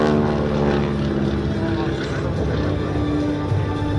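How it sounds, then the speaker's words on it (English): Propeller aircraft flying an aerobatic airshow display at a Czech vintage aviation event: a steady, droning engine and propeller tone held loud and unbroken throughout, with slight rises in pitch. "Towards the end of the display, the demonstration gets more aerobatic, and colourful smoke enhances the manoeuvres in the sky."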